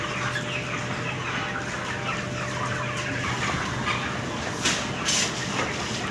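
Broiler chickens on a poultry farm, a dense continuous chorus of clucking birds with a steady background hum and a couple of louder bursts near the end.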